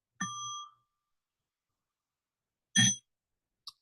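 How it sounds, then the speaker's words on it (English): A small mindfulness bell struck twice, each strike a clear ringing tone that fades in the quiet silence after it, followed by a brief faint tap. "they have somebody walk around with a little bell,"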